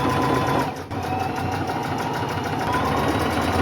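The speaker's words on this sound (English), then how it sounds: "I would recommend doing a rolled hem with your sewing machine." A sewing machine runs steadily, stitching a rolled hem on a thrifted dress, with a continuous close motor whir and a brief dip in the stitching near the start. A voice speaks briefly.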